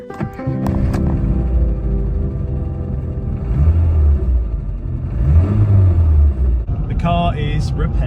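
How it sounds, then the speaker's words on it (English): Classic Mini Cooper engine revving while driving, a low rumbling drone that swells and falls with repeated throttle rises, heard from inside the car with some clunks and a brief higher whine near the end. "it feels so good to be back in the little Mini, driving it after almost 8 years"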